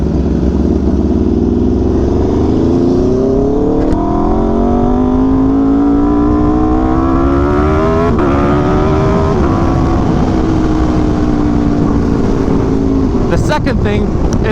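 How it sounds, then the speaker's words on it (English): An Aprilia RSV4 1100 Factory superbike engine revs steadily upward, its loud, continuous tone climbing in pitch with brief throttle changes and a sharp blip at the end, heard close and alone. "that 1100 engine just has such a nice tone"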